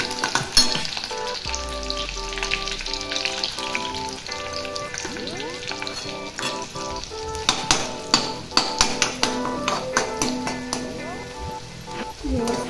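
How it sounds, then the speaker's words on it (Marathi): Ground spice paste and onion fry loudly in a hot oil tempering, a dense continuous sizzle, with a voice present and a run of sharp rhythmic spoon taps and scrapes toward the end. "आता जेवढं वाटण आहे ते घालून घेते फोडणीमध्ये. थोडंसं कांदा गुलाबी होऊ दे."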